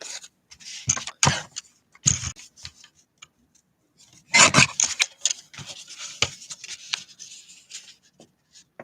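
Cardstock is trimmed for a stamping craft, with sparse scratchy slicing and light ticking strokes. The sounds come in short bursts separated by quiet gaps and stay close and moderately loud.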